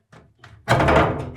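A small bathroom door in an Italian property is handled: two light knocks or taps, then a louder thud and rattle as the door swings or shuts nearby, with a faint voice in the background.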